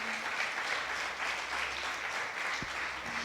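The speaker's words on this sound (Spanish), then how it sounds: "si le va a dar ese aplauso, déselo fuerte al Señor" Steady, fairly soft applause from a church congregation during a sermon, an even wash of clapping that holds for several seconds with no voice on top.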